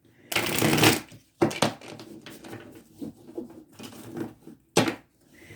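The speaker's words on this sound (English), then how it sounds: "So while I'm shuffling these cards" Tarot cards being shuffled up close in several crisp riffling bursts, with short pauses between them and a final quick shuffle near the end.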